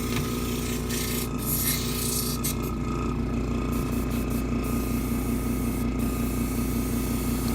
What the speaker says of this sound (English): Okay, so I'm going to start up the air compressor. It's going to make some noise